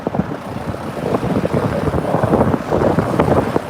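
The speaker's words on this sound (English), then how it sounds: "we're cruising through Tokyo on the back of Peter's Vespa" Ride on the back of a Vespa scooter through Tokyo streets near Kanda Station, with constant rushing wind and road noise and a busy engine rumble close to the microphone.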